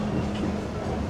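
Walt Disney World Railroad train rolls along the track in a steady, loud rumble with a dense low hum, no distinct clacks, and no voices.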